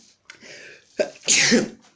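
A single harsh, explosive cough bursts out after a brief breathy intake, loud and close, with no talk around it.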